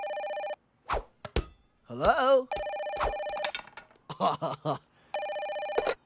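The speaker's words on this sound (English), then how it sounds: "I'll use the emergency phone." An emergency phone in a cartoon rings in three electronic bursts, at the start, middle and end. Between the rings come voices and a few thumps and whooshes.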